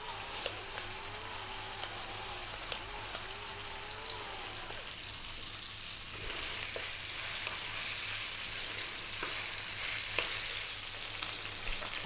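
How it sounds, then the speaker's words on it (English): Beef searing in a hot pan over medium heat, seasoned with salt and black pepper, a steady broadband sizzle and crackle throughout, close and fairly quiet, with no talking. "So we've sealed the beef there"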